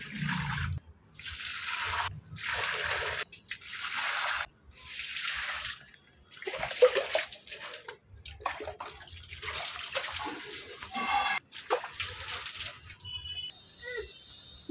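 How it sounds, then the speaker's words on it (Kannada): Plants are watered by hand at home, with water gushing and splashing in a series of short bursts and pauses nearby, and a voice occasionally heard between pours. "ಅಷ್ಟು ಗಿಡಕ್ಕೆ ನೀರು ಹಾಕ್ಬಿಡ್ತೀನಿ"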